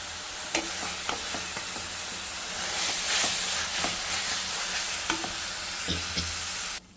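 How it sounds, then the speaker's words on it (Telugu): Pudina leaves sizzling and frying in a hot pan for mint rice, a steady hiss with faint scraping stirs now and then, close by with no talk. "సో పుదీనా అయితే వేగిపోయింది."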